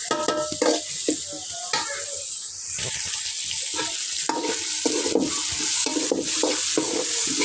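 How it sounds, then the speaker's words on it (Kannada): Turmeric and spices fry in a pan for crab sukka, a soft sizzle broken by repeated scraping and stirring of a utensil, close and fairly quiet. "ಸ್ವಲ್ಪ ಫ್ರೈ ಆಗಲಿ."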